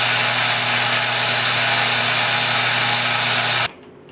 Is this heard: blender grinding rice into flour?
yes